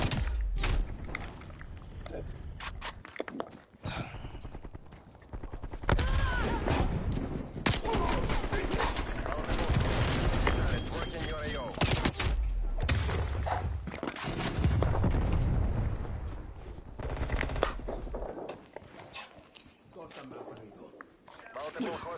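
Rapid bursts of gunfire from a gun with no attachments in Call of Duty Cold War crackle and boom densely throughout, with someone talking over the shooting.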